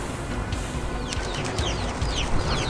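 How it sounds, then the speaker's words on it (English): Attacking birds in Reverse 1999 flap and cluck in a loud, busy flurry, with sharp squawks rising over a dense noisy background. "These stupid birds!"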